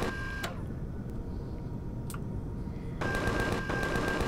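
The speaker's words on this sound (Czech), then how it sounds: "Ten turret prostě střílí na všechno živý, co vidí okolo" Automatic turret in the space survival game Empyrion Galactic Survival firing, a few sharp isolated shots followed by a rapid burst of repeated gunfire over a steady background hum.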